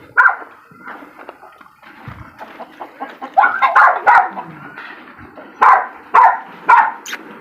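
Dogs bark in several sharp, loud bursts toward the end, mixed with chicken clucking and farmyard noise, after a busier stretch of lower animal sounds.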